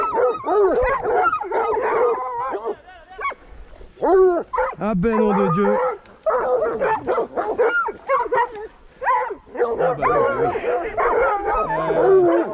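Several boar-hunting dogs bark, yelp and whine excitedly in bursts, close by, while someone speaks in French between and over the barking.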